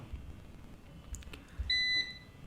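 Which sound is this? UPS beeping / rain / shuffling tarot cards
UPS beeping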